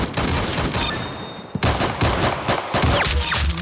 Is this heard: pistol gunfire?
yes